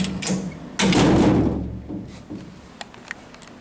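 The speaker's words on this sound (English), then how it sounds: "And close the door real quick." A metal door in an El Salvador apartment swings shut with a single solid thunk and a brief rattle. A few light clicks and small knocks follow close by.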